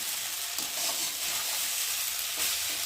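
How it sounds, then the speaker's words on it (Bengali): Egg pulao frying and being stirred in a pan, a steady close sizzle with broadband hiss throughout and faint scraping of the stir, no talking. "তো দেখো ভালো করে একটু নেড়ে চেড়ে নিলাম"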